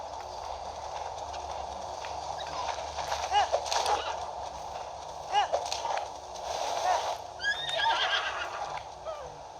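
A horse whinnies repeatedly in Zelda Breath of the Wild, with several high rising neighs spread across steady in-game ambience and faint hoof clatter.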